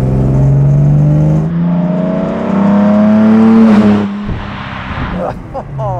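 A 1966 Jaguar E-Type 3.8 Coupé, a restored vintage racing car, revs its engine in a loud, rising climb past 1000 rpm, then drops off abruptly. Someone speaks over the engine.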